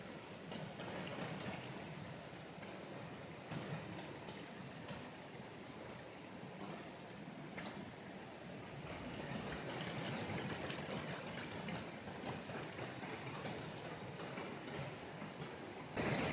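A small stream and little waterfall in a wild Carpathian forest rush steadily, a dense continuous water noise without breaks and no voices over it.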